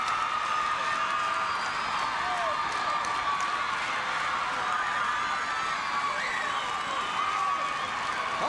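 A wrestling arena crowd at a World Class Championship Wrestling match roars and cheers in a continuous, loud wash of shouts and whoops that never lets up.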